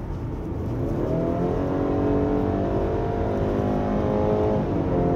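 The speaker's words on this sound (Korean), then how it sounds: "고속에서 제가 악셀을 좀 깊숙이 한번 밟으면서 고속 주행도 한번 해보죠" A BMW X3 20 accelerates hard at highway speed, its engine drone rising steadily in pitch with a continuous, loud, close roar and road noise throughout, no voices over it.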